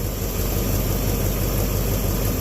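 A 1967 Chevelle engine idles as it warms up, a steady, loud, even rumble with a constant low throb that holds through the whole stretch without revving.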